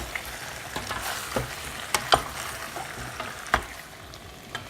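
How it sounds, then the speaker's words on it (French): Tomato and meat are stirred together in a pot, giving a steady low sizzle broken by scattered sharp clicks and scrapes of the spoon against the pot. "on tourne pour mélanger le tomate et la viande"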